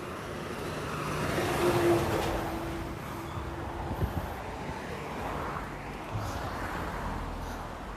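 Cars pass by on a roadway beside a sidewalk, broad rushing swells of tire and engine noise rising and fading under steady wind buffeting, with no talking.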